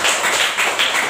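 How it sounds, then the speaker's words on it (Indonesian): A classroom of students claps together in a brief, dense burst of applause, loud and close, with no talking. "tepuk tangan dulu."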